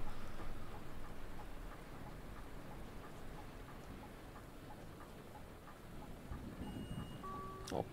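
Steady rain heard from inside a Berlin city bus riding in wet weather, a soft continuous wash of drops and road hiss with faint low rumble, brief clicks near the end.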